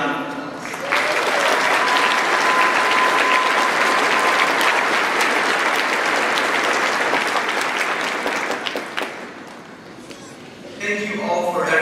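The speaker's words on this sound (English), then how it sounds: "Let's give all of them one round of applause." Loud, sustained applause from a large graduation crowd honoring mothers, dense clapping that swells and holds for several seconds before tapering, with cheers and scattered voices mixed in.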